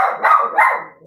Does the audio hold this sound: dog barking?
yes